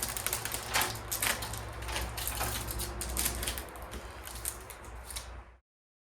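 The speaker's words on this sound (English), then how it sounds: "Take this tape off." Packing tape peeled off the pallet of a DELEKS MD400 BS mini dumper on a work site: a close, loud, continuous crackling rip with sharp bursts that runs for about five seconds, then cuts to silence.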